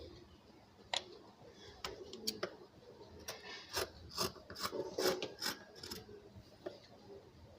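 Scissors snip through blouse sleeve cloth along a marked outline, giving a series of close, crisp rasping cuts in an uneven rhythm, quiet overall and with no talking.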